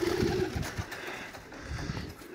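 A young pigeon coos near the start, giving a few low, throaty pulses close by. Quieter rustling and soft thumps follow, and no one speaks.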